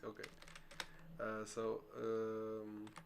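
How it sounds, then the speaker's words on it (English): Computer keyboard typing during a coding session, a scatter of quick clicks mixed with nearby talk. "The keyboard is going crazy."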